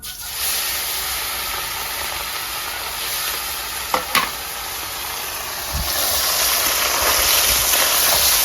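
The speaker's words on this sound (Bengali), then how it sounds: "তেলটা গরম হয়ে গেছে, এবার মাছটা ভেজে নেবো।" Hot mustard oil sizzles and hisses steadily in a pan as small fish fry, with a couple of brief clinks partway through and the frying growing louder toward the end.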